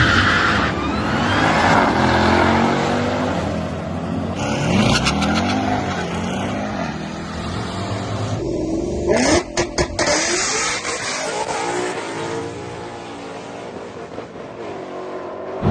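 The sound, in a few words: 1000HP Dodge Durango Hellcat drag racing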